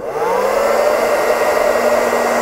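A household hair dryer runs on its cool setting, giving a loud, close, steady whir with a rising motor whine as it spins up, and no voices.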